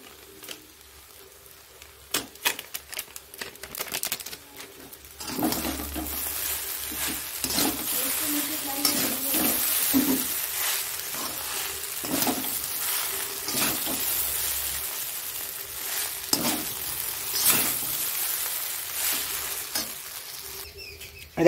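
Chow mein stir-fried with spices in a pan for a home puja meal, giving a steady close sizzle broken by repeated scraping and clattering stirs, the frying growing louder after the first few seconds.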